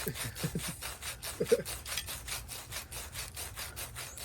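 Rhythmic back-and-forth rubbing of sandpaper on wood, steady repeated strokes, fairly quiet and close.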